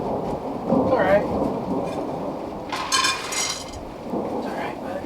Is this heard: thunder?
yes